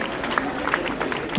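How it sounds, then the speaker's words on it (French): Crowd applause for a half-marathon athlete at an elite runners' presentation, steady close clapping with scattered sharper claps and no voices. "Les applaudissements, mesdames et messieurs, pour Anan Ouagad."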